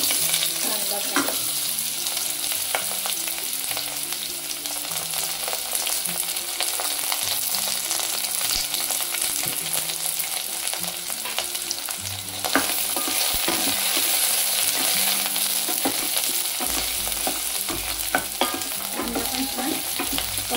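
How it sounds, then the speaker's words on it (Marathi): Chopped onion hits hot oil in a pan for broccoli almond soup, bringing a loud, steady sizzle with stirring that runs continuously throughout. "तेल गरम झाले, आता आपण याच्यामध्ये कांदा घालू।"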